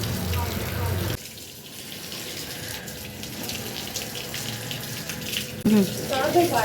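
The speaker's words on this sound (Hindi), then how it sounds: "पानी बंद कर दिया मैंने" Water gushes from a hose pipe used to wash an outdoor area, a steady loud hiss and splash that drops in level partway through, with a voice speaking briefly near the end.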